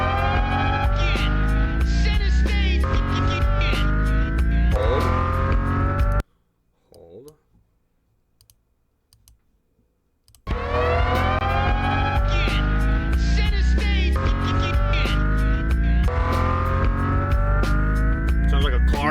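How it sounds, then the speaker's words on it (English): Car sounds sampled in a hip-hop beat, with looping engine revs and sweeping whines layered over drums and music. The track plays loudly, drops out for a few seconds of near silence, then returns at full level. "Sounds like a car."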